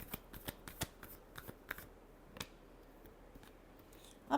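Tarot cards are shuffled by hand up close, with a series of soft, quick riffling snaps at uneven intervals and a sharper clack at the finish.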